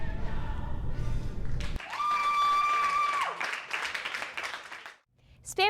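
Applause from a theater audience after a student Spamalot musical performance, a burst of clapping at the start giving way to a sustained sung note and music, with crowd noise underneath.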